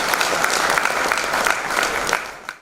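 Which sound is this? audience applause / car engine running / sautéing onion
audience applause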